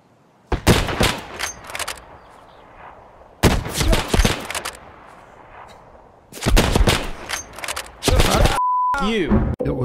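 Rapid bursts of automatic gunfire in an Escape from Tarkov match, three loud sustained volleys separated by quiet gaps, followed by a steady beep tone and a warbling electronic sweep.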